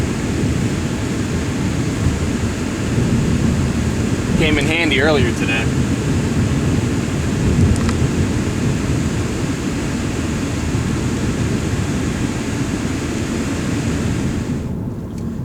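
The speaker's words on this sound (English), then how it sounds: "This car's got a great air conditioner blower." Steady air conditioner blower rushing inside a 2012 Ford Focus SE, a constant broad whoosh running under someone talking.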